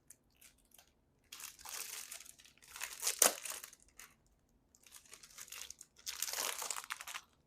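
A wrapped planner package is unwrapped up close, with bursts of crinkling, crumpling paper or plastic and a sharp tearing rip, separated by quiet pauses.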